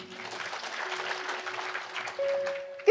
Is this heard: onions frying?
no